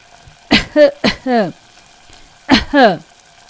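An elderly woman in a Hindi cartoon, winnowing wheat by a smoky clay stove, coughs hoarsely and close up: two quick coughs, a brief pause, then a third rasping pair, each with a strained voiced tail.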